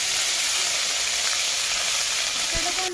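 Onion, ginger and garlic paste fries in hot oil with an even, moderately loud hiss that holds throughout, with a single soft knock near the end.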